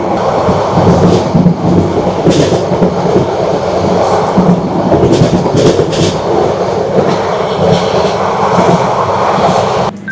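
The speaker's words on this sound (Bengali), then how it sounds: "এখানে হচ্ছে খুব ধীর গতিতে ট্রেন" A train on a Bangladesh railway line rolls slowly past with a loud, close, continuous rumble and a steady clickety-clack of wheels over the rail joints.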